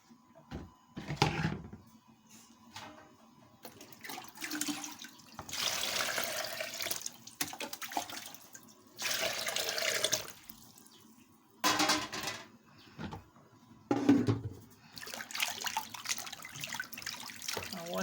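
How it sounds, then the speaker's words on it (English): Tap water running over vegetable leaves being washed in a sink for native oha soup, splashing in bursts with quiet gaps between rinses, close and fairly soft, with faint background talk. "You have to make sure you wash your leaf very clean so that there will be no sand inside the leaf."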